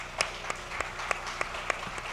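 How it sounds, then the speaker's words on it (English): A small conference audience at a blockchain event gives faint, sparse applause, with a few distinct claps standing out from a soft background patter. "So could I get a round of applause for them and all of their hard work?"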